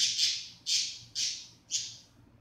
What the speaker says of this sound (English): There's two birds in the room.